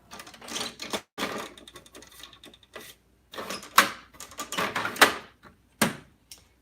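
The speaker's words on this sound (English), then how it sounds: "what I'm going to go ahead and do is close this printer down" An Epson P600 printer is closed and shut down: a series of clattering mechanical clicks, whirs and thumps in uneven bursts, close by and fairly quiet, separated by short silences.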